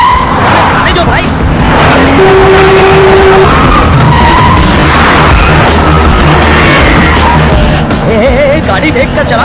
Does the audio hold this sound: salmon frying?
no